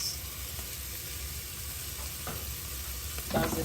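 Mussels seasoned with salt cook in a pan for egg and mussel fried rice. A steady, even hiss of frying holds throughout, a few faint clicks rise near the end, and a voice speaks briefly.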